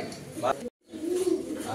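Pigeons coo softly in a pigeon loft, low murmuring calls around a brief silent gap, mixed with nearby ambient noise.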